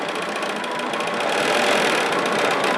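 A Bernina 770 sewing machine stitching at a longer stitch length, a steady close whirring hum with rapid needle chatter that rises slightly in speed partway through, heard alone.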